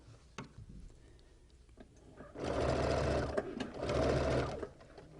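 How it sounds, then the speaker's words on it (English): A sewing machine stitches quilt pieces in two short steady bursts of rapid mechanical whirring, with quiet ticks and handling noise before and between. "we're going to just sew them, get a little anchoring stitch here"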